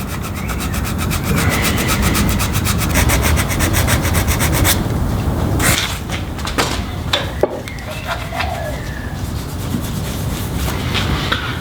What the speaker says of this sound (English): slowly you just try and sand it off again until they're nice and clean